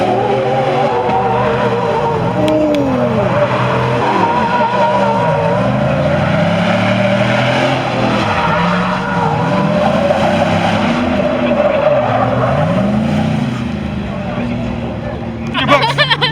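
A vehicle does a burnout at a car meet, spinning its front tire as the engine revs and wails in repeated rising and falling sweeps, loud and close, with people talking and a crowd murmuring around it.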